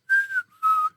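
Two clear whistled notes, each a sustained tone gliding slightly downward, separated by a short pause, loud and close with nothing else behind them.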